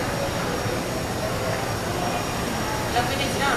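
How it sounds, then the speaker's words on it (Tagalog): A Walkera Lama remote-control helicopter flies with a steady, continuous whirring drone of rotors and motor, fairly loud and unbroken throughout. "Ulit yung helicopter na to ah."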